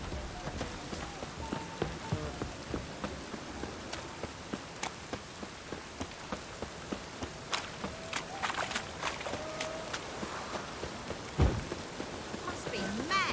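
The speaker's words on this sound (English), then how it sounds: "Must be mad running around in this rain." Steady rain falls in the video game The Witcher 3, a constant hiss with rhythmic footsteps running through it and brief louder thumps, as characters talk over it.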